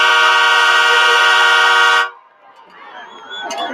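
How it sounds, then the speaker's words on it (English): A loud, sustained train horn blasts for about two seconds at a high school football game in Rogers City after a touchdown, then cuts off, leaving crowd noise and an announcer's voice. "As they sound the train horn here in Rogers City."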